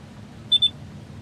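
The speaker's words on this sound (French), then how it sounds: "vous avez entendu le bip. Ça veut dire que la trémie va être pleine." Two quick high-pitched electronic beeps in close succession over a low, steady background hum: the hopper-almost-full alert in Farming Simulator 25.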